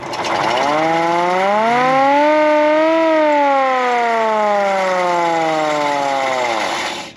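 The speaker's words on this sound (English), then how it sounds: "And got the hand crank siren." A hand-crank siren on a 1927 Mack AB chain-drive fire engine winds up to a loud, steady wail, holds its rising pitch, then slides down as it stops, alone and close.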